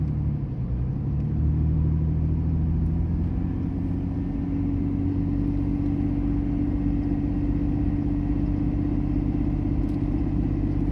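A truck engine labors while pulling a trailer uphill on the road toward Cades Cove, a steady low droning rumble with a rising tone as it works, heard continuously from inside the cab.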